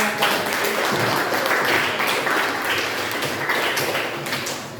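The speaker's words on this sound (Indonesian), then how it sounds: "Tepuk tangan buat Linda dengan pertanyaan" A classroom of students clapping steadily and loudly for a few seconds, a dense patter of hands that fades slightly toward the end.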